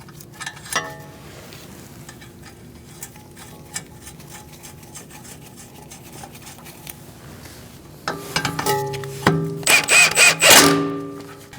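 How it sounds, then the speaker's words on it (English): Metal hand-tool work on the front wheel hub of a 2002-2006 Toyota Camry as the hub nut is snugged and tightened with a wrench: faint scattered clicks and scrapes, then a louder burst of rattling, ratcheting metal near the end. "I'm going to snug this up and torque it to 36 foot-pounds"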